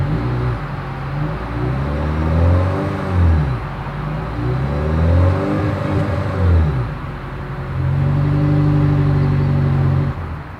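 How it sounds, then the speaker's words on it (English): Exhaust of a 2023 Toyota Crown hybrid AWD sedan, recorded up close: a steady engine hum rises and falls through several smooth revs, sweeping pitch up and down, with no talking. "As always, here is that exhaust clip."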